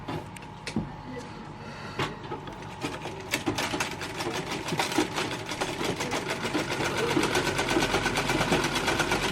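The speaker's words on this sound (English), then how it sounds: "so I'm sewing the shoulders." A sewing machine stitching the shoulders of a dress, its steady rapid needle clatter building and running continuously in the foreground, fairly quiet overall.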